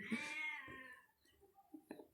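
A cat meows loudly with a long, drawn-out cry, then gives a few shorter, softer mews, close by.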